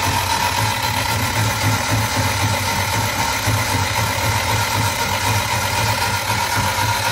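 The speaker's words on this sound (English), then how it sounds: "I'm going to crank it over with the fuel pump off and the spark plugs out, which will make it a lot easier to crank" An old barn-find engine turns over on the starter with the spark plugs removed and the fuel pump off, giving a steady, even, rhythmic churning that runs loud and close without stopping.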